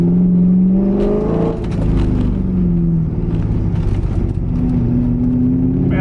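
A C5 Corvette accelerates hard through the gears, its V8 rising in pitch with a rough, fumbled shift into second, loud and close from inside the car throughout.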